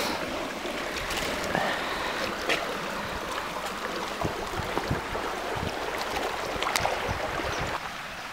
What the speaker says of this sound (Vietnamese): Mình vừa mới lội qua cái suối này để về các bạn nhé.